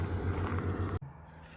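Constant wash of loud highway traffic near Jasper National Park's Morro Peak trail, a broad steady roar that cuts off abruptly about a second in, leaving a much quieter hum.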